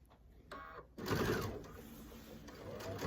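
A sewing machine stitches quilt binding, its motor starting in short bursts and then running in a steady, close mechanical whir with rapid needle clatter, fairly quiet throughout.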